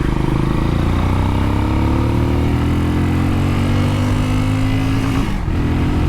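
QJ SRC 500 motorcycle engine revving up toward its redline, a loud continuous drone rising steadily in pitch before a brief dip and recovery, with no speech over it.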